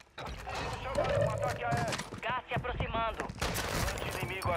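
Bursts of gunfire rattle throughout, mixed with mechanical clicks and other game-like effects from Warzone 2, with a voice talking over part of it.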